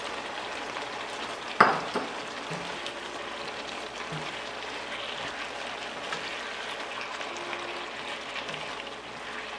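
Chicken and beef sausage frying in a pan for fajitas, a steady close sizzle and crackle with one sharp knock near the start and faint clinks, no talk.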